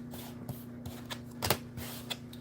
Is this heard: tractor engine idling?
no